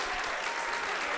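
A basketball crowd at a high school holiday tournament quarterfinal cheers and applauds steadily, a dense, loud wash of clapping and voices with no break.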